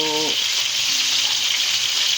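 Ginger, onion and moringa leaves fry in a pan for a soup broth, giving a steady close sizzle and hiss that runs unbroken through the whole short stretch.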